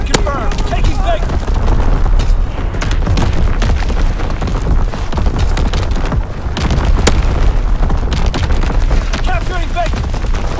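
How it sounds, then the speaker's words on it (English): Artillery battery firing in Call of Duty WWII on the Shipment 1944 map, a dense barrage of booming blasts and gunfire rolling on steadily, loud and chaotic throughout. "Firing primary battery."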